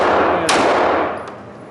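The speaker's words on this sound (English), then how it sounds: "Start doing some double taps. Nice controlled pairs." Pistol fired at a shooting range in Ringgold, Georgia, with two loud close gunshots less than a second apart, each followed by a ringing echo and no talking.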